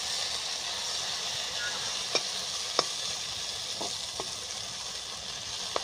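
Quiet, steady frying sizzle with soft hissing throughout and a few faint pops and ticks scattered across it.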